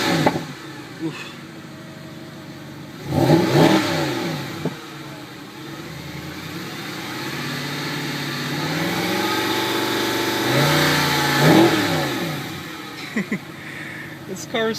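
A 2011 Mercedes-Benz SLS AMG revs hard several times nearby, its loud exhaust rising and falling in repeated blips over a rumbling idle, with a voice speaking at points.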